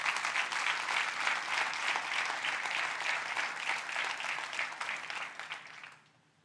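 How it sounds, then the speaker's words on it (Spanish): A church congregation breaks into strong, sustained applause during a sermon, a thick, continuous wash of clapping that holds steady before fading out quickly at the end, with no voices on top. "Denle un fuerte aplauso a Dios por eso."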